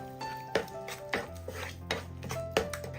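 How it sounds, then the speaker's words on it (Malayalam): Grated carrot and sugar stirred in a pan, a spoon or spatula knocking against the metal about every half second in a regular rhythm over a faint low sizzle, close up and without talk. "ഈ ക്യാരറ്റും പഞ്ചസാരയും ഒന്ന് മിക്സ് ആയി കിട്ടുന്നത് വരെ ഒന്ന് ഇളക്കി കൊടുക്കാം"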